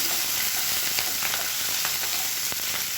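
Garlic and green chillies sautéing in a pan for a chutney, a steady close hiss of frying with light scattered stirring clicks, no voices.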